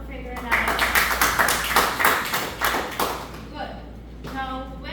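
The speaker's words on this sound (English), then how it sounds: "Give yourself a clap for figuring that out." A class claps together during a micro-teaching lesson on vectors, a burst of rhythmic claps lasting a few seconds before trailing off, then a voice begins speaking.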